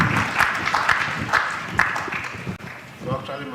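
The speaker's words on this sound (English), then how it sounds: "Another round of applause for." An audience at a public lecture gives a short round of applause, with claps loudest early and thinning toward the end while a voice speaks over them.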